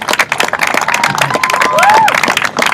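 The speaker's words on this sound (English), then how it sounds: "Yeah, give them a good round of applause." An audience breaks into dense, sustained applause, many hands clapping together with a few cheers and whistles rising through the crowd noise.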